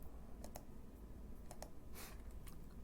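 Computer keyboard keys pressed for Windows shortcuts give a few soft, close clicks in small pairs over quiet room noise, with no one talking.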